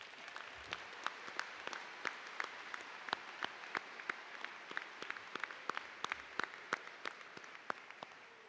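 Audience at a high school commencement ceremony applauding graduates, with many distinct claps forming steady, moderately faint applause from a crowd across the hall.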